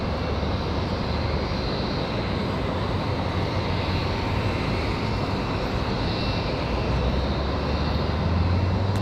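An airliner touches down on runway 23 right at Raleigh Durham airport, a constant, fairly loud engine rumble and rushing noise running unbroken throughout.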